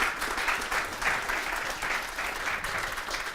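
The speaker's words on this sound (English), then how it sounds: "Big round of applause." Audience applause fills a room at a gathering about uniting Ontario horse racing, a steady dense wash of many hands clapping close and loud for the full length, with no talk over it.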